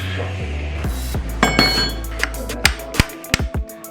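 Metal clinks and knocks ring out as a hammer is handled and set against hard objects such as pliers and motorcycle brake pads, a few sharp taps near the end.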